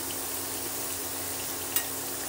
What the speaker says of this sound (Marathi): तर मी सगळे हे तळून घेते।